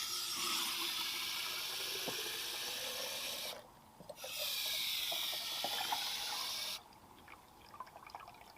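Water runs steadily from a tap into a container for mixing floral preserve, stopping briefly partway, then resuming before cutting off, with faint drips and clinks left after; no one speaks.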